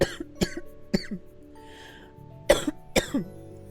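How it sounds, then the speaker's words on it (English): Several sharp coughs, close and fairly loud, spaced irregularly with short pauses between them; a couple come in quick pairs near the end. "I'm sorry for the weird coughing."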